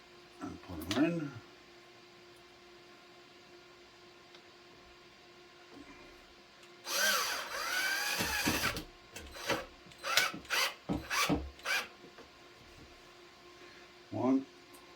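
A power drill drives screws into a box fan air purifier with a run of short buzzing bursts, one longer whir followed by several quick pulses, close by and fairly loud. A brief squeal comes at the start and another at the end.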